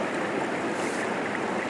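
A moorland river on Dartmoor, close to its source, rushes in a steady broadband wash of flowing water with no breaks, fairly loud and close, with no talking.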